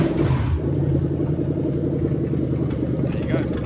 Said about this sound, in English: the engine cranks over and starts